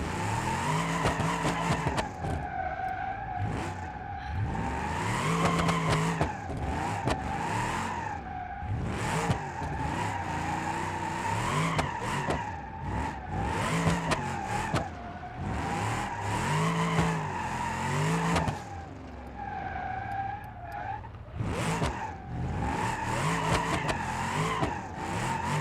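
A car in BeamNG.Drive driving hard and skidding, engine revving and whining in shifting pitches, punctuated by repeated tire squeals and scrubbing slides.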